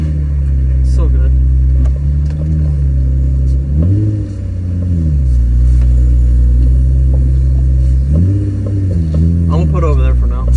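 A black Nissan 350Z rumbles loudly as it is driven, its deep engine note steady for long stretches and rising twice in short revving surges before settling back.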